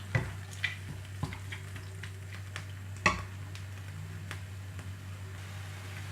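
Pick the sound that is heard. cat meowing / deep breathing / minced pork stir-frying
minced pork stir-frying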